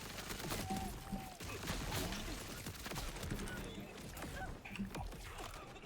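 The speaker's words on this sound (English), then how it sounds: "using double barrel in this makes my ammo go away pretty quick" A double-barrel shotgun fires in the video game Borderlands 4, loud booming shots arriving irregularly amid dense game effects and chaotic combat noise.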